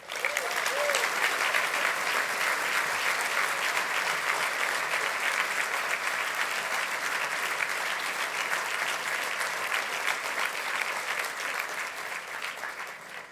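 Long, loud ovation from a banquet crowd at a testimonial dinner and awards night, continuous dense clapping that swells early and tapers only slightly toward the end.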